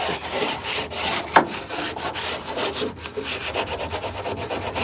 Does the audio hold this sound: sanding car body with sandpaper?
yes